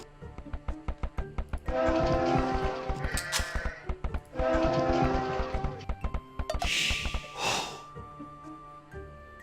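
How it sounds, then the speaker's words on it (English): Sheep bleat in the Age of Empires 2 HD strategy game, a few loud repeated bleats over steady game music and ambient effects, with a brief brighter burst near the end. "Sheep found somewhere."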